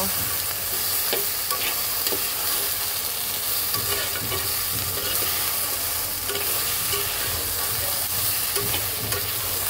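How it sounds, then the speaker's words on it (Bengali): Salt being stirred into a sizzling pan of shing fish with gourd shoots, a steady frying crackle with scraping spoon strokes throughout, close and fairly loud, no talk. "এইবার সব কিছু সুন্দর করে মিক্স করে দেব।"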